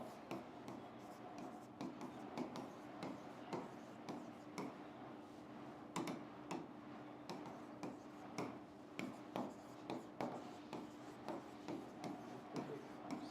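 Marker or chalk scratching across a board in short repeated strokes, a steady scraping and tapping rhythm with a faint hum behind it.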